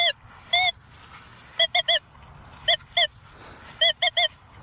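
A Nokta Legend metal detector with a large coil emits short, pitched warbling beeps in quick clusters of two and three, repeating over a faint outdoor background hiss.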